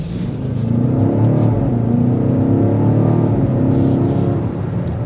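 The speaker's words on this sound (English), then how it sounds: "You're already going 40 miles per hour before the engine kicks, and then all of a sudden you hear this loud exhaust note" A 2023 BMW XM plug-in hybrid accelerates hard in comfort mode, its engine kicking in with a loud, steady exhaust drone that holds strong throughout, heard from inside the car with no talk.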